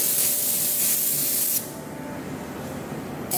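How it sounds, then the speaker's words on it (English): A steady, loud hiss of a spray gun applying dark green paint to a Piper Meridian aircraft blasts for over a second, drops to a quieter hiss, then a fresh burst starts at the end. "Now we're gonna be spraying the dark green"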